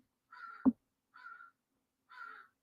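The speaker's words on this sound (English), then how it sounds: "One of my crows is out there yelling at me." A crow caws three times outdoors at moderate distance, each harsh call spaced evenly apart, with a single dull thump landing during the first caw.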